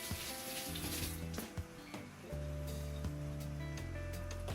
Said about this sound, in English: Now rinse my hands.